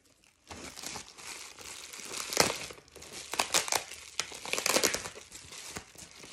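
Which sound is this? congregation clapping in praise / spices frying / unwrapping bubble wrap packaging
unwrapping bubble wrap packaging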